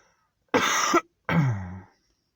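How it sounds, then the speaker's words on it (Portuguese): Two harsh coughs from one nearby person, each a short rough burst with a brief gap between them, followed by quiet. "Peço perdão aí, irmãos, essa tosse me pegou."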